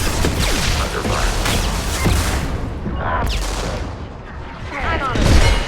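Mass Effect 2 combat sounds on Insanity difficulty: dense, loud gunfire and booming impacts keep up without a break, with scattered sharp shots and whooshing effects over a heavy rumbling bed.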